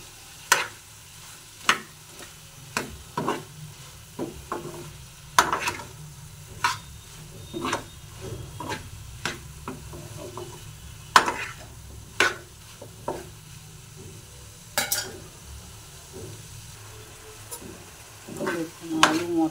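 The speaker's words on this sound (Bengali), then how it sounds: "এর মধ্যে একটু পেঁয়াজ কষা দিয়ে দিলাম।" Onion frying in a pan for an egg and pea curry, a low steady sizzle broken by regular scraping knocks of a spoon stirring against the pan.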